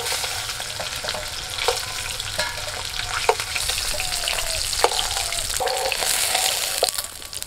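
Cardamom pods, a bay leaf and ginger fry in hot oil left in a wok after frying magur catfish, a loud continuous sizzle with sharp crackles and pops and occasional stirring scrapes.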